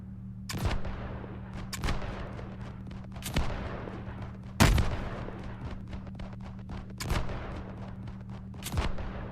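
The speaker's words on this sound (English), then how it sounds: "Turrets!" Turrets fire in the survival train game Chapter II: Heat Death, sharp booming shots landing at a slow irregular pace over a steady low machine hum, six distinct blasts with the loudest near the middle.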